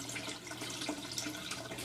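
Water trickles and gurgles steadily as an aquarium siphon draws it through an aquaponic setup, a soft, continuous flow at low volume with no voices.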